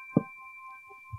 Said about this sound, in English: To excuse the noise of my phone